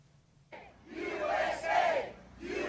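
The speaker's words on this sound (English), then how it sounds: "all of the great patriots from around the country that have chanted USA in support of President Trump" A Trump rally crowd, captured on a phone, chants USA in rhythmic swells of many voices, rising and falling over about two seconds after a short quiet start.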